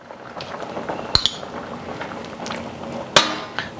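Fish sauce poured into a pot of Thai spicy mixed vegetable soup with shrimp, a faint close liquid trickle under light kitchen clatter and two sharp clinks of a spoon or bottle against the pot.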